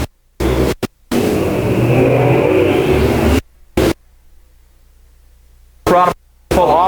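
Race cars roar past at Thunderhill Speedway, a loud, steady engine rush broken by abrupt silent gaps, with brief voices near the end.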